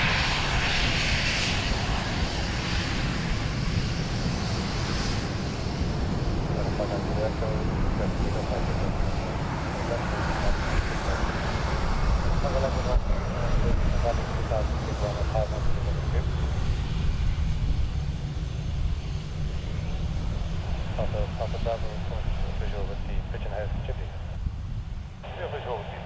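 A jet airliner lands on the runway at Dublin Airport with a long, steady engine roar that builds and then slowly fades. Speech and radio chatter come and go over it.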